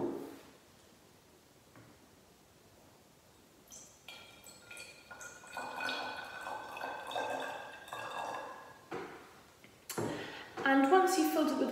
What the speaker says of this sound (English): Now for the second bottle, we would probably want to be adding around this much water.